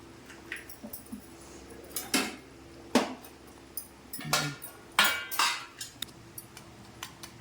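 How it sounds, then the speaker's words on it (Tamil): An egg is cracked and poured into a kitchen ladle while making egg kuzhambu, heard as a handful of sharp taps and metallic clinks spaced a second or so apart in a quiet kitchen, with no talk. "இந்த மாதிரி உடச்சி ஒரு கரண்டியில் இப்படி ஊற்றிக்கோங்க"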